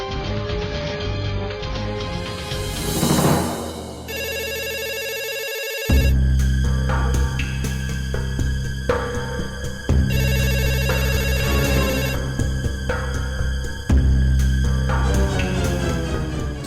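A telephone ringtone plays loudly and alone, a repeating electronic melody with tonal phrases that restart every few seconds, opening with a rising sweep.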